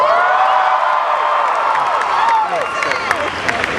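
A Comic-Con 2010 panel audience claps and cheers together, a dense wash of applause with scattered whoops, loud and continuous before easing slightly near the end.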